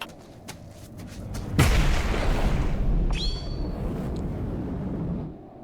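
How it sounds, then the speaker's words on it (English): A single loud explosion bursts in a video game, followed by a rumbling tail and a short high electronic tone, close and dominant with no talk. "Explosion."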